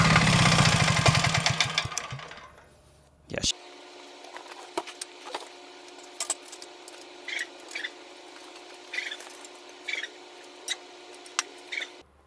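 A cheap 247cc 5 hp single-cylinder diesel engine running on vegetable oil chugs loudly for about three seconds, then winds down and falls silent, followed by scattered quiet clicks.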